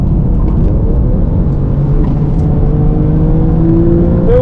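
A Porsche 997 Carrera GTS engine pulls hard on a race track, a loud, continuous close-up drone whose pitch climbs steadily as the car builds speed, with no voices.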